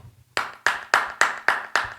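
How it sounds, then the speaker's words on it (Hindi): Six sharp, evenly spaced claps ring out close and alone after a brief quiet pause, each a crisp hand slap with a short decay. "यहां पे ताली तो बजती है।"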